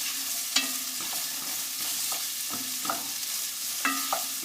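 Onions soften in a pan with a steady low sizzle, punctuated every second or so by the knock and scrape of a spoon stirring them.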